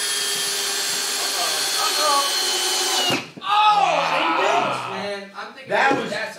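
RIDGID and Makita hammer drills run flat out side by side in a drilling race, a loud steady whine for three seconds that cuts off abruptly, followed by excited voices and laughter.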